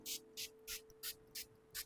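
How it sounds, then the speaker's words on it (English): A rice water niacinamide face mist is sprayed about six times in steady rhythm, each a short, soft, breathy hiss close by, with faint background hum between bursts. "So this face mist, it works wonders for me. So I'm just going to spray all over my face."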